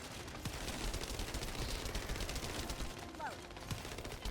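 Rapid automatic gunfire in The First Descendant, a dense continuous rattle of shots in a chaotic firefight, fairly quiet and steady across the whole stretch.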